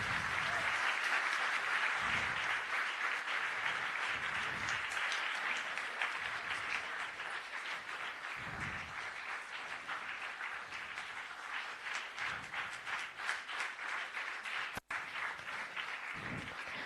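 Audience applause at a book release event, a long, steady wash of many hands clapping that holds at an even, moderate level throughout, with low rumbles of movement beneath it.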